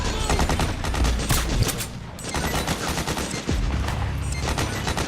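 Dense suppressing gunfire from a Metal Gear Solid 4 firefight roars continuously and loudly, with overlapping rapid bursts and a short dip before the barrage picks up again.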